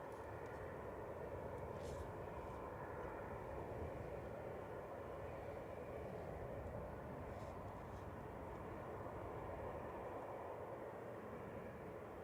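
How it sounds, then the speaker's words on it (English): An Austrian Airlines Embraer E195 jet arriving from Vienna on approach to land at Manchester Airport, a steady broadband engine roar heard from outside at moderate distance, constant and unbroken throughout, with faint wind. "Austrian Embraer E9195 coming in from Vienna here"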